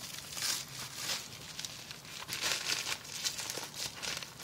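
Crinkling, rustling plastic wrapper of a trading card pack being torn open, a continuous close crackle that swells and fades over a few seconds with no talk.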